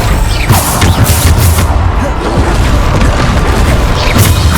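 Continuous loud booms and crashing blasts from Bombarda spells in the game Hogwarts Legacy, close and dense with rumbling low end, under a spoken spell incantation.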